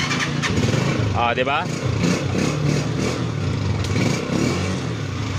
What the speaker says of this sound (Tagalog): Mabubuhay na yung ating motor.